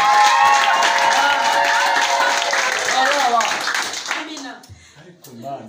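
A church congregation applauds loudly with cheering voices mixed in, and the clapping fades out near the end.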